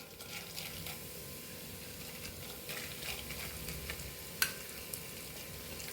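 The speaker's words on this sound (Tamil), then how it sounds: "இந்த முந்திரியையும் பாதாமையும் லைட்டாக ரோஸ்ட் பண்ணி எடுத்துக்குவோம்." Cashews and almonds roasting lightly in ghee in a kadai over medium heat give a steady, soft sizzle with faint stirring scrapes and one brief sharp clink near the end.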